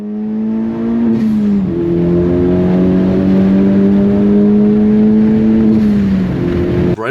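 An engine-swapped 10th gen Honda Civic Si at Pocono Raceway, heard from inside as the engine holds a loud, steady high-rpm drone with a brief dip around a gear change, then climbs and sustains again before easing off, with no talking.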